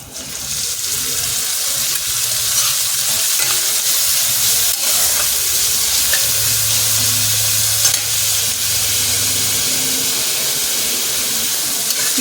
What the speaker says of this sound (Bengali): ভালোভাবে ভেজে নিতে হবে যাতে কাঁচা গন্ধটা না থাকে